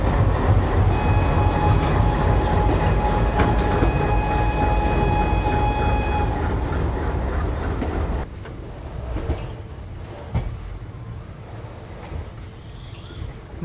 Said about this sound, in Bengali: সান্টার অ্যালকো লোকোমোটিভের আওয়াজটা আমার ভীষণ ভালো লাগে